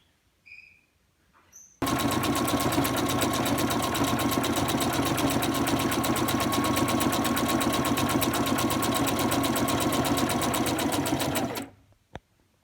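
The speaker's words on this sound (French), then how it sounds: "Je fais un point numéro 8, le point zigzag, bien serré." A sewing machine runs a tight zigzag stitch across fabric for a face mask, a loud continuous rapid whirring chatter lasting about ten seconds before stopping, with quiet room sound on either side.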